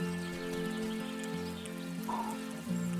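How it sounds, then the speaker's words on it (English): Steady rain pours down in the Wylde Flowers video game, a soft continuous patter of drops over a sustained tonal game music bed, with no voices. "it's pouring down rain"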